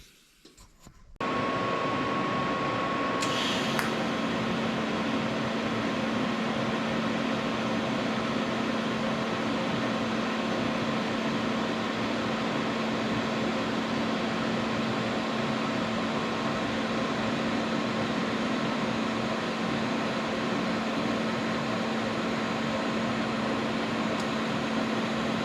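Welding soft jaws with silicon bronze produces a steady, unbroken buzzing hiss with a faint constant hum, starting after a quiet second and holding evenly for over twenty seconds, close and without speech.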